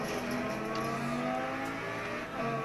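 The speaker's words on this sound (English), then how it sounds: "Now we're gonna drive a Lamborghini" A Lamborghini engine revs hard in an Xbox racing game, a continuous loud, high whining roar with shifting pitch and no talk over it.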